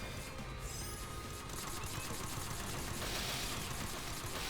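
Shotgun blasts fired in the video game Sword Art Online: Fatal Bullet, a dense run of loud booming reports mixed with game noise and effects, filling the whole stretch without pause.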